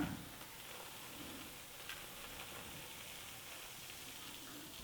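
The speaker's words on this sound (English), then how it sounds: "Was not expecting it to make that sizzling" A faint, steady crackling sizzle of hot wax being poured over sawdust and dryer lint runs throughout, continuous and low in level with no speech.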